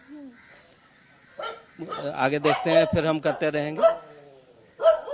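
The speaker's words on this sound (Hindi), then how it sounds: "आप आवाज भी सुन सकते हैं कि यहाँ पे कुत्ते भौंक रहे हैं।" Dogs bark repeatedly at an ashram, a rapid burst of loud, close yaps and barks followed by one more sharp bark, while someone talks nearby.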